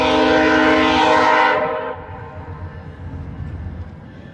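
A loud horn on a westbound passenger train blares for over a second, then cuts off, leaving the low rumble and clatter of the passing train.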